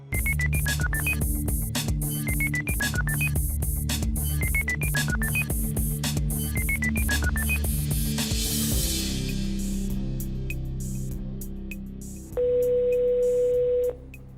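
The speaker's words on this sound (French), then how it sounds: "La régie compose le numéro de téléphone." Dial tones and rapid keypad beeps sound as a telephone number is dialed in a television studio control room. A short burst of noise follows, then a single long ring tone rises near the end, with no talking.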